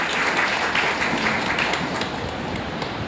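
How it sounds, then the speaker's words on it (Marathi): An audience of women claps together to welcome the chairperson of their gathering, dense, steady applause that holds loud throughout and softens slightly toward the end. "त्यांचं आपण सर्वजणी टाळ्या वाजवून स्वागत करूया"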